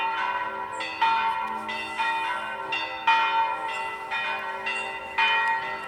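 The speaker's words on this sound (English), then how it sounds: "those are the bells of St. Agnes that we're hearing" The church bells of St. Agnes in Rome ring out in a steady peal, each strike roughly a second apart, loud and resonant with a long ringing decay.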